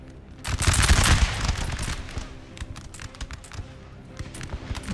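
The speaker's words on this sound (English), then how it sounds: "Artillery is also providing some decent cover fire." Artillery cover fire in the video game Napoleon: Total War booms in a loud cluster early on, then thins to scattered distant shots and crackling volleys across a battlefield.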